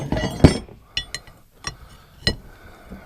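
A cap goes onto the hydraulic cylinder of a broken Case 580 Super K backhoe with a series of sharp metallic clinks and taps, close by and spaced irregularly, with no voice.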